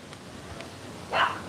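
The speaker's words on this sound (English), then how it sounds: "What's the dog barking for?" A dog barks once in Negril, Jamaica, a single short bark rising over a quiet, faintly noisy background near the end, moderately close and alone with no talk over it.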